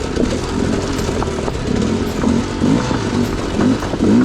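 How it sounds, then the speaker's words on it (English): A dirt bike engine rumbles close and loud throughout on an enduro ride, with scattered clattering and crunching of loose rocks shifting beneath it. "You can hear the rocks moving underneath the bike, over the engine."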